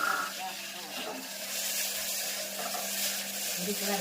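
Steady sizzling of tomatoes frying in hot oil with mustard seeds and cumin, a continuous crackling hiss throughout with some stirring.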